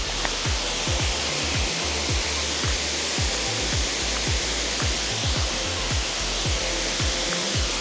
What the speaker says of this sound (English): this waterfall is so beautiful